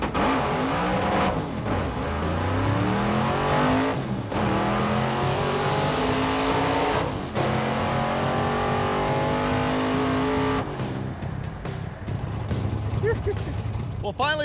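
The Blasphemi race car launches down a drag strip, its engine roaring loud and close as it revs hard and climbs through several gear changes, each shift dropping the pitch before the next rising pull.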